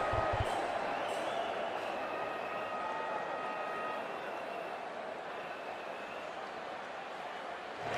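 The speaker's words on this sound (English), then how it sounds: "it's a loud crowd as the players make their way out" Loud, steady roar of a large stadium crowd in the cricket video game Cricket 24 as players walk out for an India U19 vs England U19 World Cup final, a continuous wash of noise with faint tonal layers.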